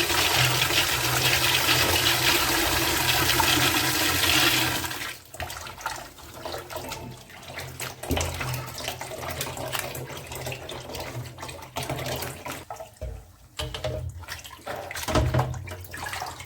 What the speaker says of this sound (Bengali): মুরগির গোস্তগুলো ভালোভাবে ধোয়া হয়ে গেলে পানি নিড়ানোর জন্য কিছুক্ষণ রেখে দিব